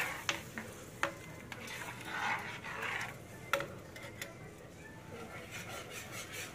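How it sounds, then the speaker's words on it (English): Thick gumbo stirred in a pot on an electric stove, a soft simmering sizzle broken by scattered spoon scrapes and clinks against the pot. "And I'm still stirring this, so it's not sticking on this electric stove or burning."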